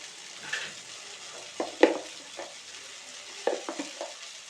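Garlic frying in oil in a pan for a bitter gourd pulusu, a faint soft sizzle with a few scattered stirring clinks and scrapes, quiet and close with no speech.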